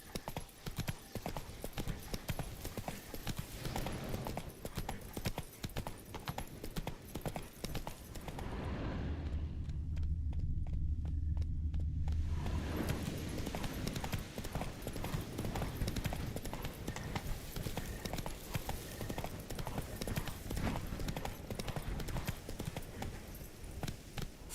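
Roach the horse gallops in The Witcher 3, a rapid continuous clip-clop of hooves with rumbling movement that briefly turns muffled and low midway before the hoofbeats return at full pace.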